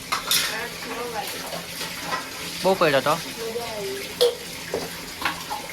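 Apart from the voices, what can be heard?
washing dishes under running tap water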